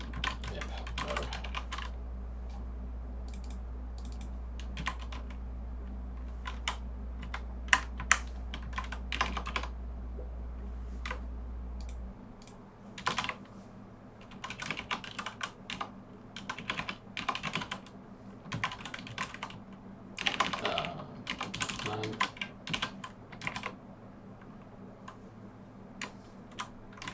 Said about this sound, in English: I could just be typing the actual code first instead of just the blocks